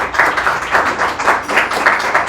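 An audience claps in applause for the governor of Imbabura, a steady run of close, even hand claps lasting a couple of seconds with no talk.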